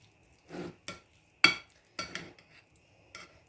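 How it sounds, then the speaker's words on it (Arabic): Utensil stirring mayonnaise into cooked rice in a bowl, a few separate soft scraping clinks spaced out, close and fairly quiet with no talking. "نخلط لا مايونيز مع الروز تاعي"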